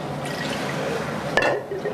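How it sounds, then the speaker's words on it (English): Water poured over the hands for Jewish ritual handwashing while preparing for Shabbat, a steady splashing trickle close by that gives a brief louder gush partway through. "There are also different traditions as to how many times you pour over each hand."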